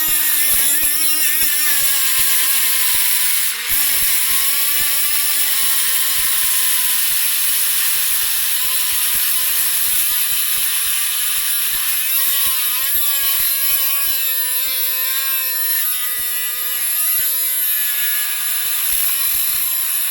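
A TACKLIFE rotary tool cuts through a metal screw, a loud continuous high-pitched whine with shifting pitch that holds steady for the full stretch with one brief dip, heard close and alone.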